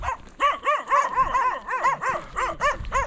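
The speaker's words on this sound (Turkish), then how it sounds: "Köy taraflarında aşırı köpek var. Her yerde havlıyorlar." Several village dogs in Ecuador bark and yip repeatedly in quick, overlapping bursts, fairly close and loud, with no talking.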